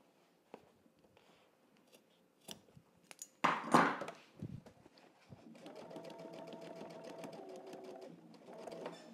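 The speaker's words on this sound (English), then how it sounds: "you're going to just sew over the top of the stitching that you already see" Sewing machine with a denim needle stitching slowly over a thick, bulky jeans seam while turning jeans into a skirt, with some handling noises first and then a steady run of close mechanical stitching.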